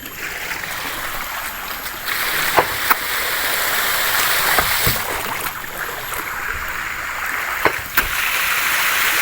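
A hydram automatic water pump working without electricity or fuel, giving a loud continuous rush of flowing water with a few sharp knocks spaced a few seconds apart.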